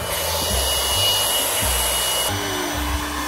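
Electric air pump inflating a backyard inflatable water park, a steady loud blowing hum with a faint low pulsing underneath, continuous and close with no talking.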